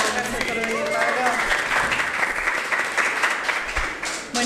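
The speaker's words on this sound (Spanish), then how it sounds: "Le damos un aplauso." Audience applause at a university communication showcase in Argentina fills the space as a steady, dense wash of clapping, continuing evenly for several seconds and cutting off abruptly at the end.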